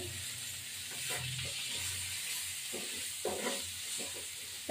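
Potatoes with carrot and cauliflower frying in a pan, a quiet, steady sizzle and hiss with soft stirring scrapes throughout and no talking.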